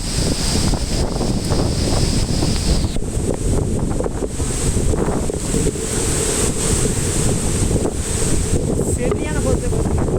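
A high-flow waterfall at Aagaya Gangai Falls roars as a constant, loud, dense rush of falling water, steady throughout with no pauses, and a faint voice may sound underneath.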